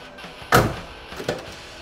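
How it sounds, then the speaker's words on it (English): A car door on a 1967 Chevrolet Camaro RS/SS 396 convertible, fitted with new door handles, shuts with one loud, solid thunk up close, followed by a softer second knock and a quiet interior afterward. "1967 GM door closing quality, and 40 years later, it sounds even better than when it was brand new"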